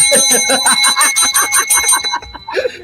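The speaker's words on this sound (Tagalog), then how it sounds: "magbe-bell muna ako" A small hand bell rings in a quick, steady run of bright repeated strikes for about two seconds, then stops, with a voice briefly following.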